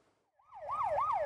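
An ambulance siren wails as it rushes a cardiac-arrest patient through jammed city traffic in Korea, swelling in from near silence, then settling into a loud, close, steady up-and-down wail.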